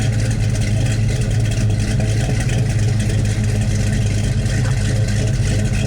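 A car engine runs steadily through a stainless steel exhaust, giving a loud, constant low rumble and drone with no talking.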